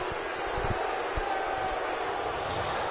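Wrestling crowd murmuring and reacting at Survivor Series in Mexico City, a steady wash of arena noise with a few thuds, moderately loud throughout.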